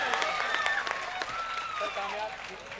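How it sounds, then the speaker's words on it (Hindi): Applause from a kavi sammelan audience at a Hindi comedy shayari recital, a dense spread of clapping with a voice calling out over it, steady then tapering slightly. "जोरदार तालियां"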